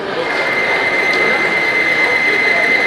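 A lubricant demonstration machine runs hard in fourth gear, giving off a loud, steady roar with a high whining tone that holds through the whole stretch, close and continuous, with no talking.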